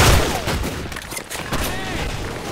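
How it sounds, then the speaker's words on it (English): Shotgun blasts in a competitive first-person shooter match, a dense volley of loud booming shots firing in quick succession with the odd short pause, faint voices underneath. "Die Shotgun-Schüsse."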